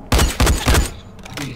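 Three loud, sharp gunshots ring out in quick succession while shooting a zombie in the video game Dying Light, followed by a quieter tail with faint background game sounds.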